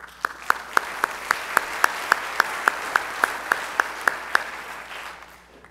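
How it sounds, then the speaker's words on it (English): A senior salute audience of students applauds their community with crowd clapping under a loud, evenly spaced series of sharp close claps, then trails off. "students, let's applaud our community for all their efforts they put in."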